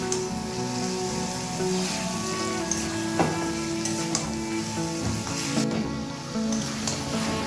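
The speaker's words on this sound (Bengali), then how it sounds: "এবার চিকেনটাকে ভেজে নিচ্ছি। এই ম্যারিনেট করা অবস্থাতেই চিকেনটাকে একটু ভাজতে হবে।" Marinated chicken chaap frying in a pan, a continuous close sizzle with bubbling crackle and occasional scrapes and taps from stirring, steady throughout with no voices.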